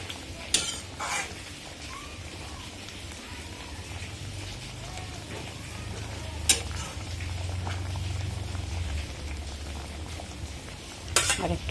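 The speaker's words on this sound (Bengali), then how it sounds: "এখন এখানে আমি দিয়ে দিচ্ছি একটু আদা রসুন থেতো করে" Crushed ginger and garlic fry in a pan for laipata sag, a steady close sizzle and crackle with a few sharp utensil clanks against the pan.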